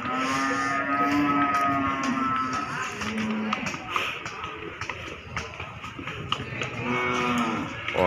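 Cattle moo repeatedly at a busy, noisy outdoor livestock market in Pati, Indonesia, several long lowing calls rising above crowd chatter and clatter.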